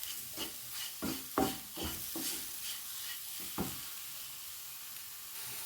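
A banana snack frying in a pan is stirred with a spatula, giving several soft scraping strokes over a steady faint sizzle, close up and without talk.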